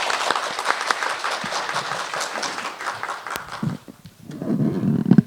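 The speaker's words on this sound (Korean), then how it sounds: "박수로 환영하겠습니다." An audience at a Buddhist academic seminar claps to welcome a speaker. The applause is brisk and fairly close, thins out after about four seconds, and a voice begins speaking near the end.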